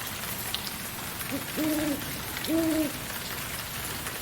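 Eerie owl-like hooting ambience in the Lost River area of the underwater game Subnautica: two clear, hollow two-tone hoots about a second apart over a steady hissing, rain-like background hum.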